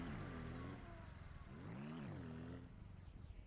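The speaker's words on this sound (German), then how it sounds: "wenn der Motor hochdreht" An engine revving in the Ranch Simulator video game, a close mid-pitched whine climbing and falling in pitch with a quick rev-up in the middle, heard alone.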